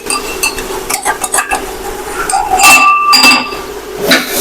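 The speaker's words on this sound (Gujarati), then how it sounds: "આપણે તેને સારી રીતે હલાવી લેશું" A vegetable curry being stirred in a pot, with repeated close scraping and clinking of a spoon against the metal, loud and irregular, mostly without talk.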